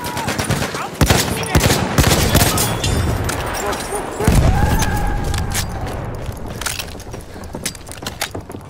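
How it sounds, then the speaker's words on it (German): Battlefield 1 combat: a thrown grenade bursts loudly amid rapid bursts of close gunfire and scattered shots, sharp cracks repeating throughout while a voice speaks over the fighting. "Ich werfe eine Granate!"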